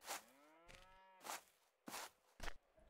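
A cow in the farming game Farmers Life lets out a long, falling moo, and several short clipped game sounds follow. No one speaks.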